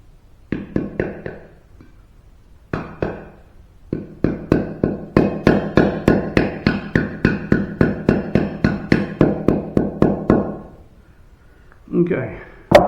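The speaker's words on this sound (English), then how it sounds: "There's a fresh seal going in it. Take a urethane hammer." Urethane hammer tapping a fresh wheel bearing seal into a hub, a long run of steady, evenly spaced dull knocks after a few scattered taps, close and clear, ending with brief talk.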